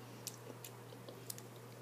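Someone chews crunchy beet sauerkraut close to the mic, a few sharp crisp crunches scattered over quiet, with a steady low hum beneath.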